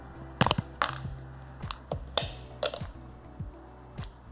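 Several sharp, crisp snaps of tempered dark chocolate close up, irregularly spaced, each a short bright crack with quiet pauses between.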